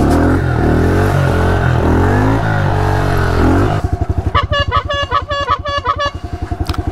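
A dirt bike engine catches after a kick start and settles into a close, loud, rapid popping idle with a steady staccato beat and slightly uneven rhythm.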